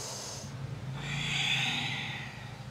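A yoga practitioner's breathing cycle: a short breath, a pause, then a longer, louder hissing exhale through the nose or mouth, heard close and alone.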